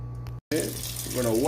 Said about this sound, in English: We're gonna wash off the callaloo and spinach.